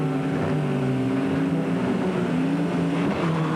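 Production race cars, including a Dulux Auto Colour Works Mitsubishi Starion, roar away from the start of a 1987 Australian production championship race at Surfers Paradise, a dense, steady wall of engine noise with rising and falling revs and no commentary heard.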